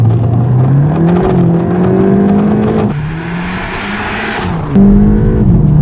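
A stage 1 tuned VW Golf MK8 GTI accelerating hard from a standstill toward 100 km/h with a bit of wheelspin; loud rising engine note through gear changes, a brief gap with rushing noise, then pulling again, close and without talk.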